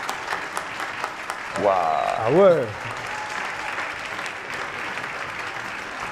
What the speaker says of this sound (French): Applaudissements pour Or Humain